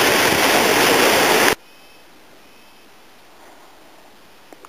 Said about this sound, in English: I don't know whether you can hear me over the roar of the river.